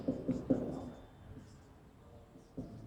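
Chalk or marker tapping and scraping across a classroom board while a chemistry equation is written, with a cluster of distinct strokes early on and another at the end, fairly close and quiet with no talk.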